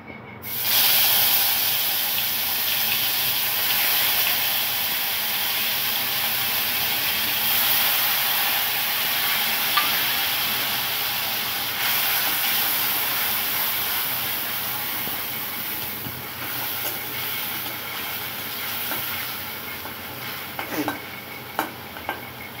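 Tomato and onion masala paste sizzling steadily in a hot pan, a continuous close hiss of frying with occasional faint stirring clinks, no voices.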